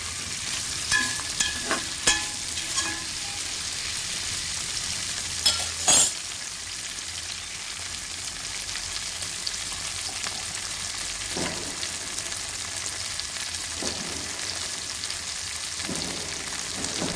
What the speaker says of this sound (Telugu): ఉప్పు వేసి బాగా ఫ్రై చేసుకోవాలి ఎండకాయ ముక్కలు మొత్తం మెత్తగా మెత్తబడేలాగా ఫ్రై చేసుకోవాలండి